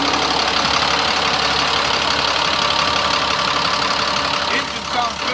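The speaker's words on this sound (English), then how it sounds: "Engine sounds good." A 2000 GMC C6500 flatbed tow truck's diesel engine idles steadily nearby, a constant rough rumble with a faint knocking texture, with a voice briefly over it near the end.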